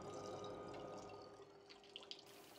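Faint, steady trickle of groundwater flowing into a measuring container during a hydraulic conductivity field test, with a few light drips near the end.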